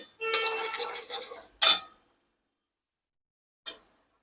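A spoon stirs a sweet potato mixture in a pan over a medium gas flame: a long scraping stroke, then a second short sharp scrape, silence, and a faint final tap.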